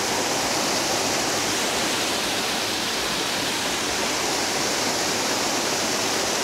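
Kaypuso Falls (Talon Butas) in Bailen, Cavite, with water pouring into a pool, a constant loud broadband roar with no breaks and no voices.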